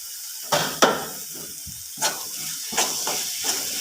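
Egg masala curry spices sizzling in a hot pan as they are stirred, a steady hiss broken by a few sharp scraping clicks of the spoon against the pan.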